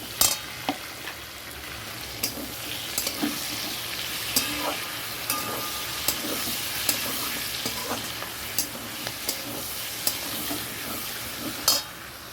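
Potatoes and onions sizzle steadily in a hot pan while a utensil scrapes and stirs with sharp, irregular clinks.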